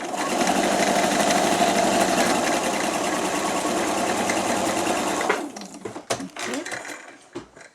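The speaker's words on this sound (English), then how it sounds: "I'm quilting all of this in the same thread." A sewing machine quilts a patchwork cushion in dark grey thread, running in a loud, steady whir for about five seconds before stopping, followed by fabric handling and a brief spoken word.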